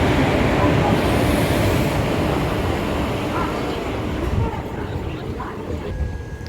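A passenger train standing at an Indian railway platform while passengers board a sleeper coach, a loud continuous rumble and crowd noise with people talking throughout, the din easing slightly toward the end.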